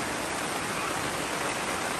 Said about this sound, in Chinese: 今天有风，又下雨